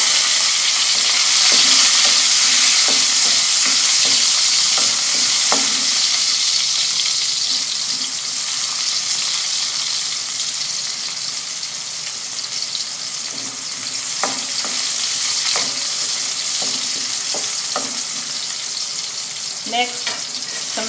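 Red onion for spicy chicken breast afritada fries in a pan with a steady, close sizzling hiss, broken by scattered clicks and stirring knocks throughout.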